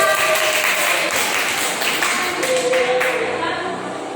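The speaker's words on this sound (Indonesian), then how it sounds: "tepuk tangan buat karyanya" Classroom students clap after a short story reading, a scattered, moderately loud round of hand claps mixed with room noise and some voices, fading toward the end.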